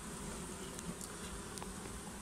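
A steady, dense buzzing of many honey bees, continuous and close, with no voices.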